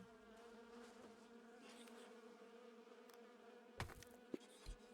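Bees hum around hives in a video game, a soft constant buzz broken near the end by a few sharp clicks and taps.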